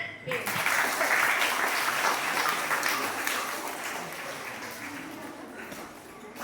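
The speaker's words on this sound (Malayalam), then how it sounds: "ഓക്കെ, ക്ലാപ്പ് കൊടുത്ത്" Sustained applause from a group, steady and fairly loud for several seconds before gradually thinning out toward the end.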